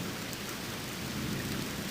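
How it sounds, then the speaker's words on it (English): Steady heavy rain with a low thunder rumble on a dark London street in the detective game Detective Butler: Maiden Voyage Murder, a dense unbroken wash of downpour heard alone without any voices. "On the dark and rainy streets of London"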